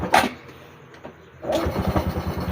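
A Honda XRM125 motorcycle with a hard-starting, misfiring engine cranks briefly, pauses, then catches and settles into a close, steady, pulsing idle.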